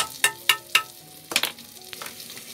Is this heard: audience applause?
no